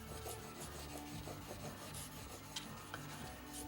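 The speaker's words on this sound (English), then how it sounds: "It's a lot cheaper to buy wet sandpaper to buy big old professional buffers and sanders" Hand sanding a Spyderco Manix 2 XL Cruwear knife with wet sandpaper: steady, rhythmic back-and-forth rasping strokes, close and continuous, with no talking.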